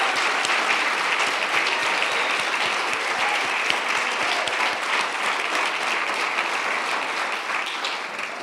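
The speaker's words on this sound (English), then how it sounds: "can we have a one big, warm round of applause for all our attendees today?" Sustained, dense applause from a large audience at a university vice-chancellor's excellence awards ceremony, many hands clapping steadily and loudly throughout with no pause.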